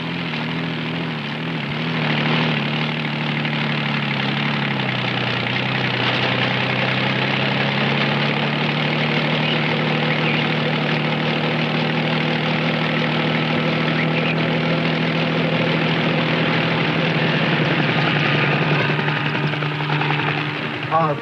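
A helicopter lifts off for a white rhino capture operation, its rotor and turbine drone loud and steady throughout, with a rhythmic low thump and a pitch shift early on as it powers up, speech faintly underneath.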